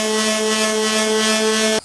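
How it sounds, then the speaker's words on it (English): A power sander with 100-grit paper works over the fiberglass nose of a broken surfboard, producing a loud, steady motor whine with a strong hum that cuts off abruptly near the end. "You don't want to keep the sander in one spot too long because the friction builds up heat"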